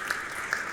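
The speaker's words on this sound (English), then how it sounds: "Please can we clap for Elizabeth?" Brief burst of audience clapping at a women's healthcare panel event, a steady patter of hands with a couple of sharper claps standing out, moderately faint and with no voices over it.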